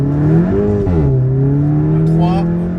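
A Volkswagen Golf 7 GTI TCR with a stage 2 tune accelerates from inside the cabin, its engine note climbing, dropping at a shift and climbing again, with someone speaking over it.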